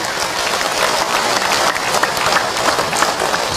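A large audience at an Islamic lecture on marriage claps heavily and continuously, a thick wash of overlapping hand claps at full strength from start to finish with no break.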